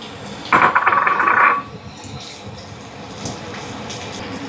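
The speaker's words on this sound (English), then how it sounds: "In go the zucchini" Zucchini pieces tumble into a pot of cooking water in a brief, bright clattering splash lasting about a second, followed by a quiet simmering background.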